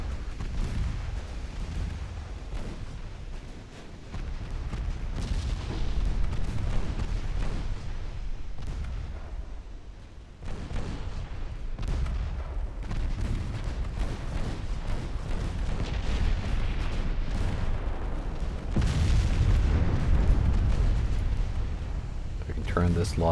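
Naval artillery from warships in the Ultimate Admiral Dreadnoughts game during a 1904 Battle of the Nile engagement: a steady barrage of booming gun blasts and heavy shell impacts, dense and loud throughout, with a louder surge near the end.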